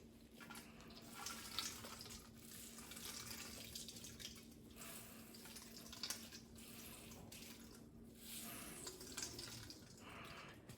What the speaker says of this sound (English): now we're going to squeeze as much water as we can out of these potatoes.